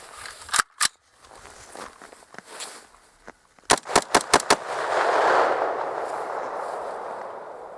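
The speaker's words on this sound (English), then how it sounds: "Let's give it a try, see if the gun will run." A rifle with a PMag and a dry, unlubricated bolt fires steel-case rounds in sub-zero cold, two sharp cracks followed by a rapid string of five shots, loud and close, then a lingering rushing noise.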